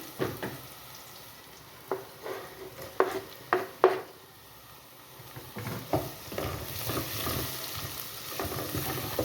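Onions and garlic frying in a pan for tomato soup, a steady sizzle broken by several sharp clatters of stirring and utensils scraping the pan, close and fairly loud.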